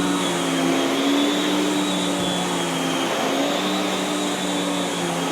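A Miele S7 upright vacuum cleaner running, a loud steady motor drone with a sustained whine and a faint pitch wobble as it is pushed around a trash can, no speech.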